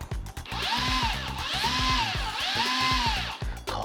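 A Festool TXS12 electronic drill drives a screw nearby in three short bursts, its motor pitch swelling up and easing down each time, with faint ratcheting clicks between runs.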